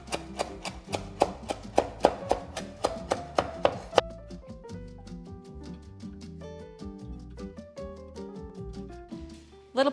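Rapid rhythmic knife chops on a cutting board as fresh basil and parsley are cut, a steady run of sharp close taps that slows and loosens over the back half, with no talking.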